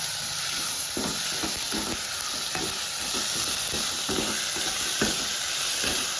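Chopped tomatoes fry for prawn biryani in a pan, giving a loud, steady sizzle and hiss close up, broken by periodic scraping stirs. No one speaks.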